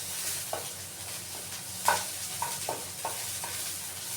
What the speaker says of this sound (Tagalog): Kailangan natin muna mag-isa ng bawang at sibuyas